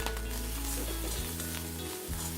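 Broken papad pieces stirred in a hot pan with salt and turmeric while roasting into a thoran-style side dish, giving a steady close sizzle with faint scraping from the spoon throughout.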